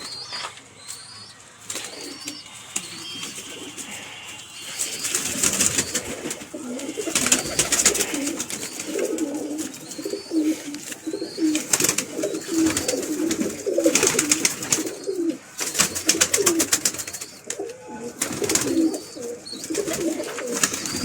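A domestic pigeon coos repeatedly at close range, with soft wing flaps and rustling mixed in during handling.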